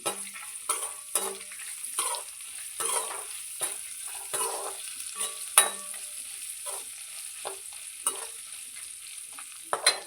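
Red chillies fry in a pan for a healthy pirandai chutney, stirred repeatedly, so a soft, steady sizzle runs under frequent scraping strokes of a spoon against the pan, close up and with no voices.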